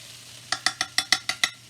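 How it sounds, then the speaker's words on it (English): Onions and celery tossed in a frying pan, heard as seven quick, evenly spaced scraping sizzle bursts over a faint background hum, close and fairly loud, no voices. "I'm going to toss these onions and celery around a little bit more."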